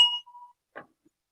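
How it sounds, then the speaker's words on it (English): A single short bright ding, marking a wrong answer during a quiz at an Igbo arts and culture festival, fades quickly into silence, followed by a brief faint thud. "You will hear a bell for a wrong answer."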